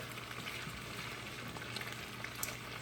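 Onions fry in a pan alongside barbecue chicken, a soft, even crackle and sizzle with scattered small pops, quiet and steady over the short stretch.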